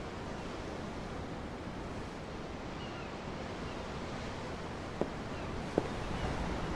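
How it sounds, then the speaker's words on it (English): Ocean waves wash steadily in Tales of Arise while the party stands aboard a ship, a constant soft surf with two brief clicks near the end and no talking. "I'm looking at the ocean."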